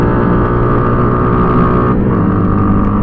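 Motorstar Z200ii motorcycle engine while riding, a loud continuous droning hum with steady tone and a slight pitch dip partway, mixed with wind rush on the microphone and no voices.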